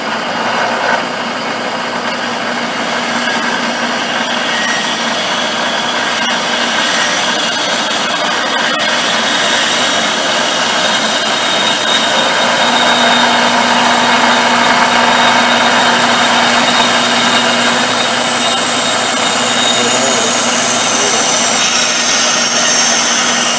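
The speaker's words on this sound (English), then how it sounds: "This wood is so hard that it's actually burning on the bandsaw" Bandsaw cutting through hard, year-seasoned wood that burns under the blade, a loud continuous machine hum and rasping cut that swells and strains as the blade works through, no talking.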